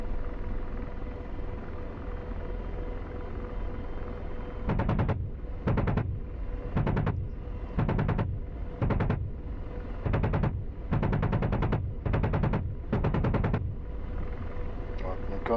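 The cannon of an AH-64 Apache helicopter in the DCS combat flight game fires about nine short, loud bursts at fairly regular intervals over a continuous low rotor and engine drone.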